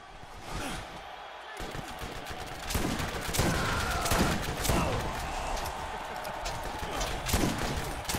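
Pistol gunfire in a Borderlands arena pistol challenge, with repeated sharp shots in uneven bursts amid a busy, noisy game mix and a voice talking over it.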